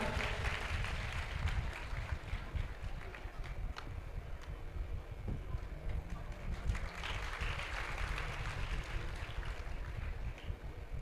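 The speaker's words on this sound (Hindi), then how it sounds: "आप लोग ताली बजाएं।" A large crowd at a Ram Katha religious gathering applauds in a dense, continuous wash of clapping, heard somewhat distant, with a faint voice now and then beneath it.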